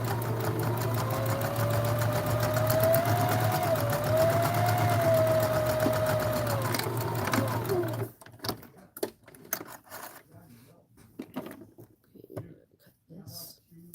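Sewing machine running a back stitch, a steady rapid whirring hum for about eight seconds that then stops, followed by soft handling noises and faint talk.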